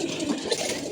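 Pigeons coo in a loft, a soft, low, throaty burble that rises and falls close by for about a second with no voices.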